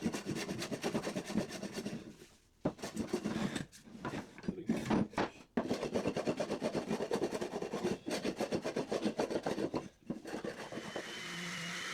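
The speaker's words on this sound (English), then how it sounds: "The rest is done with a quick sanding on both sides of both pieces." Wooden bench pieces are sanded by hand in quick back-and-forth strokes, giving a close, raspy rubbing with brief pauses between passes.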